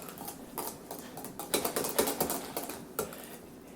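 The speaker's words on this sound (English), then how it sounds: "And stir that up." A spoon stirs vanilla and maple syrup into homemade yogurt in a jar, giving a quick series of close scraping and clinking taps, fairly quiet with no talking.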